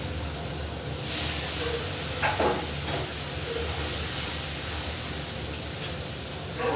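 Spice masala frying with tomato in hot oil for a pabda fish curry, a steady loud sizzling hiss that continues without a break, with a few faint clinks of stirring.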